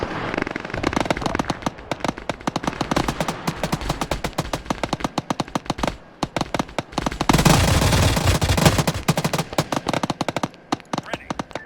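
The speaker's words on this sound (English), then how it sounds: "Charlie here, I'm hearing gunfire far east" Gunfire in the video game Arma 3 during a Starship Troopers-themed Zeus operation, loud rapid bursts of automatic fire, dense and sustained, with voices talking over it.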